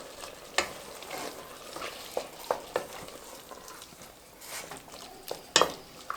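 Jumbo raisins are stirred into a pot of simmering pear chutney, with intermittent spoon scrapes and clinks against the pan over a soft, steady sizzle, heard up close with no talking.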